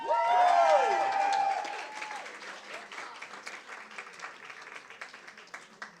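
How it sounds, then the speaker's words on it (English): A live awards-ceremony audience at a university venue bursts into loud applause and cheering, one voice whooping briefly at the start; the clapping fades after about two seconds into scattered, quieter claps. "Let's have a cheer for the room."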